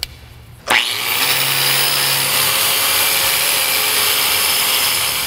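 A power tool fitted with an aggressive abrasive end starts up abruptly and then holds a loud, steady grinding whine as it strips rust from a car's exhaust pipe.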